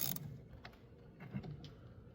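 A 10mm wrench loosening the negative battery terminal nut on a Chevy Silverado, a few faint metallic clicks and scrapes after a brief louder clatter at the start, close and quiet.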